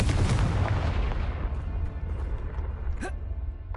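A Confringo blasting spell explodes in Hogwarts Legacy with a loud, booming burst right at the start that rumbles away over a few seconds, then a brief sharp pop near the end.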